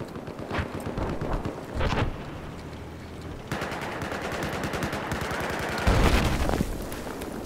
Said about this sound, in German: Der Panzer steht, glaube ich, unter uns und schießt da auf die, an die Decke.